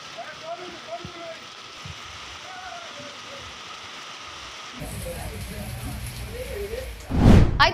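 Heavy rain in Hyderabad makes a steady hiss, faint at first and growing denser and louder partway through, with faint voices underneath.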